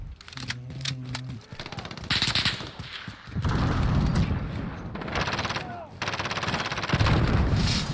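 Rapid automatic gunfire from Call of Duty Modern Warfare, an M4A1 rifle among it, crackles in dense repeated bursts, near and loud, with short pauses between volleys and some voice chatter mixed in.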